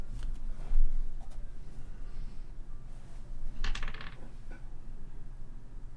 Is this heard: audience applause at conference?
no